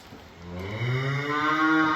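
An Angus cow moos loudly and close, one long drawn-out low call that rises and holds before tapering off.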